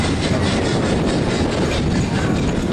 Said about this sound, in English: There's the runaway train going round.